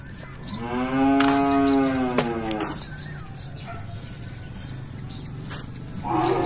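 Cattle, a pair of cream-coloured French breed bulls for sale, give one long, loud, droning moo with a second shorter call following, then steady outdoor background noise; no talking.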